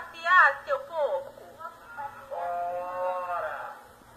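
A person imitates a cow with drawn-out, wavering moos, several in a row, in a close and fairly loud voice while telling a Portuguese children's story about a cow and a pig.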